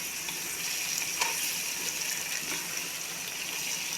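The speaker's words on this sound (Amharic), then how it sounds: "ካሮቱ አብሬ እየጠበስኩት ነው ዛሬ።" Carrots and potatoes frying together in a pan for a chicken stew, a steady close sizzle with faint stirring and no talk.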